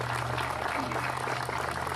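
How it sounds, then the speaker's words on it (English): Continuous applause from an outdoor Memorial Day ceremony crowd, a dense steady wash over a low hum, brief and unbroken. "Let's give them a nice round of applause."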